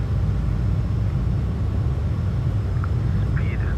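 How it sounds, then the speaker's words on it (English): Inside a small airplane with its landing gear down, steady wind noise roars constantly, with a voice speaking over it. "Okay, so the gear is down. You can hear it's noisy in the wind."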